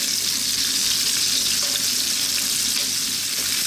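Sliced onion fries in a pan over high heat while cooking a vegan sweet potato and red bean stew, giving a steady, close, hissing sizzle with no talk.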